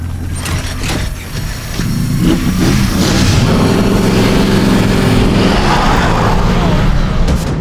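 A Bugatti Chiron Pure Sport's engine roars and builds as the car accelerates, loud and sustained with rising revs over a continuous mechanical rumble.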